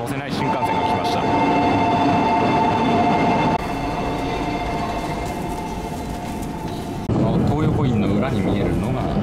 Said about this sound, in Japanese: 上越新幹線で最もお客さんを乗せない新幹線が来ました